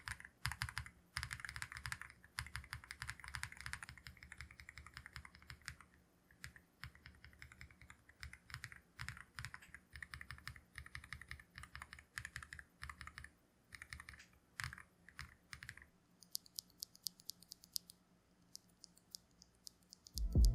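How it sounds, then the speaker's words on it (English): Rapid, steady typing on a mechanical keyboard fitted with Akko V3 Cream Blue Pro tactile switches, whose light blue-switch clicks clatter close and crisp for the whole stretch, with a few sharper bursts near the end. "The Akko V3 Cream Blue Pro is a nice blue switch."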